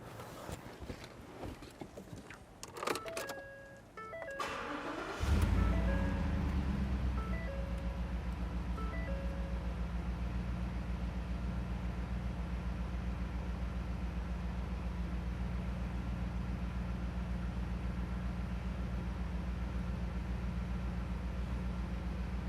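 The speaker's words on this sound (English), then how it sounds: "Sounds like a V8, doesn't it?" A 2014 Ford F-150 Raptor SVT Special Edition V8 cranks with clicks and a starter whir, catches with a loud burst, then settles into a steady, deep rumbling idle that lasts to the end.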